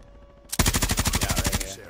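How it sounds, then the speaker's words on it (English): Video game gunfire erupts as a rapid burst of about fifteen evenly spaced, loud automatic shots lasting just over a second, then stops abruptly. "I'll be able to shoot at them from the top"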